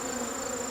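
Agitated honey bees buzz around an open hive full of honey frames, a steady close, dense drone with a thin high whine over it, fairly loud and continuous with no talk.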